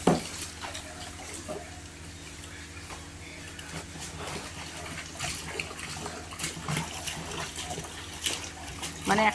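Hot water sloshes and trickles around an off-white saree being dyed in a workshop vat, a soft, continuous watery churn with faint splashes and low background noise.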